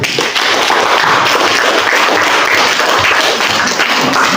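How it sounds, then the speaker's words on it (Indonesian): A classroom of students applauding a student group during a lesson, loud, dense, sustained clapping close by throughout. "Tepuk tangan dulu untuk kelompok."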